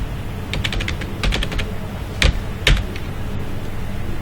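Keys clatter on a computer keyboard in short bursts of quick taps, with a few sharper isolated keystrokes, close and moderately loud with no talk.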